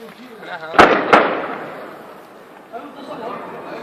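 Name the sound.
tank shell explosion hitting a house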